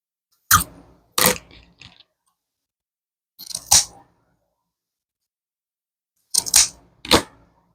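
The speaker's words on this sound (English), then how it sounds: "I'm just folding all of those over and cutting up at an angle" Rick rack ribbon folded over and snipped at an angle with scissors while making a deco mesh wreath on a dollar-store form, a few short crisp cutting and rustling bursts separated by silence, close and clear.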